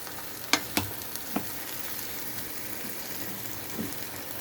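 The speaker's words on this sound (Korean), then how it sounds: "날은 덥지만 맛있는 저녁을 위해서 가지볶음을 만들어 봅니다." Eggplant stir-fry frying in a pan, giving a steady soft sizzle with a few sharp crackles and pops early on, moderately close and quiet, with no talking.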